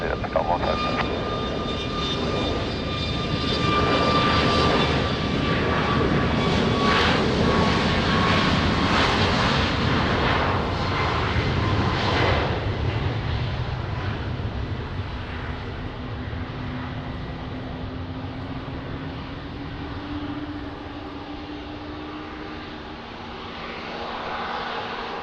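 A jet airliner taxis behind a departing Ryanair at Lisbon Airport in rain and wind, its engines a steady broad roar that swells and then eases, with a rising whine toward the end and radio talk over it.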